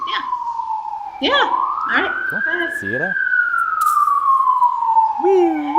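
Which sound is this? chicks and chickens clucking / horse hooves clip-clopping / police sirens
police sirens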